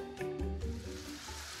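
Tomatoes hit a hot pan for a stuffed pepper pasta casserole, giving a short burst of close sizzling and frying that settles into a steady crackle.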